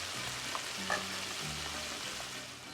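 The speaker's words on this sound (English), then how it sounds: "So while it's cooking in the pot of oil, you see, you just gotta mix it up a little bit." Eggplant and zucchini chips frying in a pot of oil, a soft continuous bubbling sizzle heard close and quiet, with a faint tap or two of stirring and no talking.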